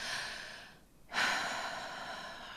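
A person takes a slow, deep breath in during a guided meditation, a soft airy inhale that swells after a brief pause, close and quiet with no talking.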